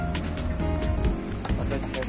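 Oil crackles and sizzles in a hot pan as an omelette fries, a busy popping hiss with sharp spatters, heard close up amid faint background noise.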